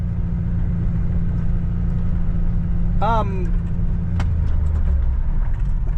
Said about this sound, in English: I don't know if you guys heard the brakes grab, and then we just kind of slid